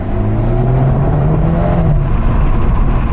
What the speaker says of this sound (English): And you can hear the turbo spooling.